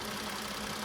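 A Toyota Avalon engine idles smoothly after an earlier misfire, with a steady, even hum and faint knocking texture throughout. The sound is close and continuous, with no talking.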